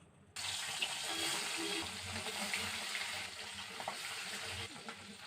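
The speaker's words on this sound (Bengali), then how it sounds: "আগে ভাজা করব নুন হলুদ মাখিয়ে, কড়াই সর্ষের তেলে" Parshe fish rubbed with salt and turmeric frying in mustard oil in a kadai gives a steady, loud hiss that starts abruptly and holds throughout, with a faint low rumble beneath.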